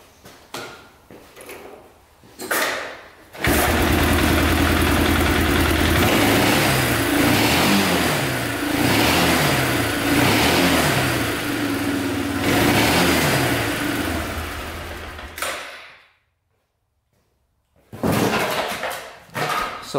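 A plowing ATV that had sat for years with a repaired carburetor starts with a few cranking bursts, then settles into a loud, close idle with rhythmic revs, cuts off into silence, and briefly restarts near the end.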